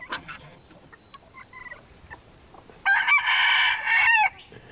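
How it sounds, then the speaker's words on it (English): Broody hens make soft, scattered clucks, then a louder, drawn-out chicken call rings out near the end, close by with no talking. "We have a couple of hens that have gone broody."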